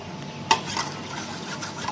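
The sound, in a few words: mixing sour curd into egg mixture with a spoon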